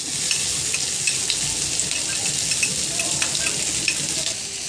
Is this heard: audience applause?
no